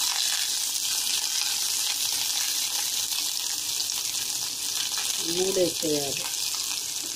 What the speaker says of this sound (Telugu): ఎర్రగా వేగినవి తర్వాత ఉల్లిపాయ, పచ్చిమిరపకాయలు, కరివేపాకు వేసేయాలి.